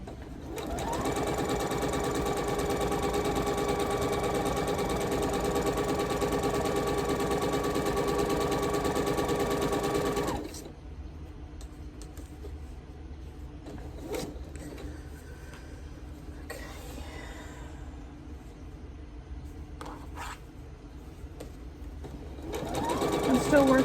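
A sewing machine stitches an Irish chain quilt in a steady, close, whirring run for about ten seconds, then stops, leaving quiet room sounds and brief clicks before it starts up again at the end.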